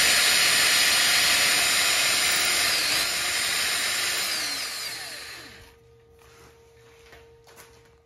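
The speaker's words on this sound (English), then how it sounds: "This, you can drill a good quarter of an inch deep." A power drill whines steadily at high speed for several seconds while drilling a hole in wood, then winds down and stops, leaving a quiet room with faint clicks.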